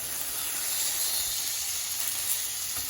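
Food sizzles in a pan just after being flipped, a steady bright hiss that holds evenly for a few seconds without pause.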